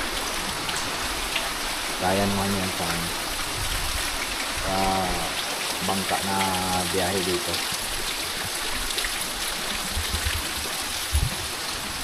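Steady rain hisses on an island in stormy monsoon weather, a constant wash with faint splashing water underneath. Someone talks over it in short phrases.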